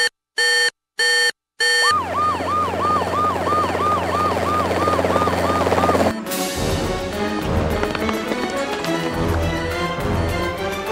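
An emergency alarm siren set off by pressing a button sounds loudly and continuously, with a rising and falling wail. It follows a few short, sharp beeps and then gives way to a denser, noisier blare.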